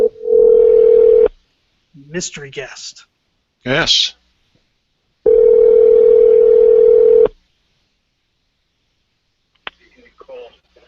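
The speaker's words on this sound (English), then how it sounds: "Here's another phone call coming up." Telephone line tones on a live local radio call-in show: two long steady dial tones with short dialing-like bursts between them, loud and close, and a few spoken words.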